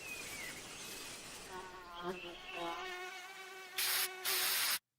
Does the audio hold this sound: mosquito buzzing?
yes